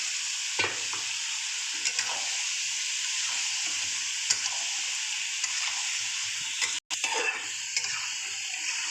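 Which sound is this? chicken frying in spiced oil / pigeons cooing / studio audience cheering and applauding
chicken frying in spiced oil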